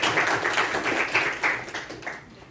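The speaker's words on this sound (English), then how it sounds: "please let us put our hands together to give a big round of applause to all the assignees" Applause from an audience at a Periyar youth leaders' meeting, cheering the assignees. A thick, continuous wash of clapping runs for a couple of seconds before it begins to thin out.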